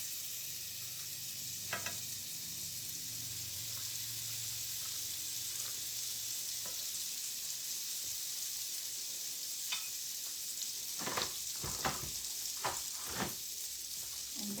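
Butter sizzles in a hot frying pan while chicken with spinach cooks, a steady soft hiss broken by a few sharp taps and scrapes near the end.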